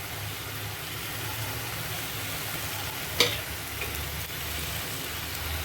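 Potatoes and green beans frying in a pan for an aloo beans curry, a steady close sizzle throughout with one brief stirring clatter midway and no talk.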